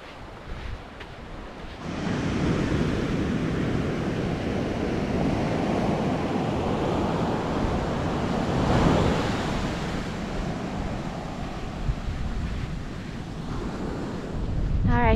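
A strong 27 mph coastal wind blasts the microphone near Cape Blanco on the Oregon coast, a continuous loud roar of buffeting and gusts over crashing ocean surf, with no talk.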